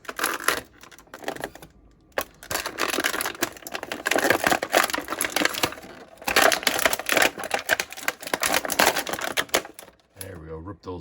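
Rubber bands being ripped out of a Masters of the Universe Masterverse Revelation Spikor action figure package, giving busy crinkling, snapping and tearing noises that run steadily and close by, with brief gaps and a quieter tail.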